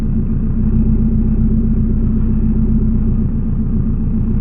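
A turbocharged Toyota Vitz engine idles, giving a steady, close, loud low rumble with an even pulsing beat and no talk.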